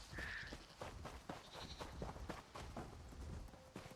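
Sheep on Khenarthi's Roost in Elder Scrolls Online give a quiet bleat, faint and brief among soft footstep-like patter and ambient game sounds.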